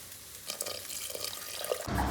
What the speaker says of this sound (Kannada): ಅದಾದಮೇಲೆ ಹುಳಿ ನೀರು ಹಾಕ್ಕೊಳ್ತೀನಿ.